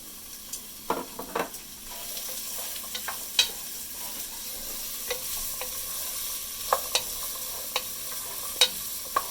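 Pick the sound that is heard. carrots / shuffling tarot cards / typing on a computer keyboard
carrots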